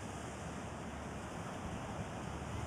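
Atlantic Ocean surf rolling onto a beach, heard as a soft, steady wash of broadband noise with light wind buffeting, faint and continuous, with no voices.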